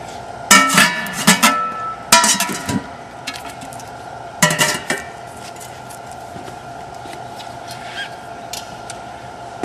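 Metal lids clank and bang down onto concrete-fill tanks in a few loud clustered impacts, followed by fainter knocks and rattles with outdoor background hum.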